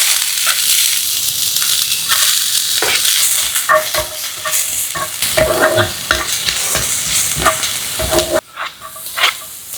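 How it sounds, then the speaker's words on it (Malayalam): Onions sizzle loudly in hot coconut oil in a pan, with frequent scraping and stirring strokes and crackling throughout, steady and close with no talk. "നമ്മൾ ചട്ടി ചൂടായിട്ടുണ്ട്, അതിലേക്ക് നമുക്ക് സവാള ഇട്ട് കൊടുക്കാം"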